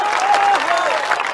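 Applause from a crowd at a public political rally in Bakhri, Begusarai, Bihar, a brief burst of dense clapping heard close with a voice cutting through over it.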